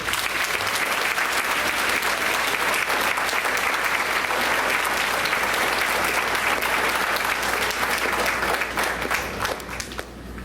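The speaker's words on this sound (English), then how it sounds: "So a round of applause for Alexandra Castro." Steady, dense applause from a seated audience at a school board meeting honoring a track and field athlete, loud and sustained throughout, thinning slightly in the final second.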